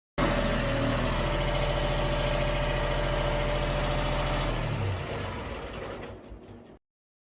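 A tractor engine idles with a steady low rumble and chug, close and loud, then winds down and cuts off near the end.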